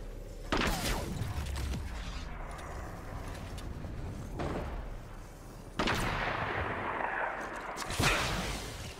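Shotgun blasts in Fortnite, a few loud, sharp bursts a couple of seconds apart over a busy game background, with no talking.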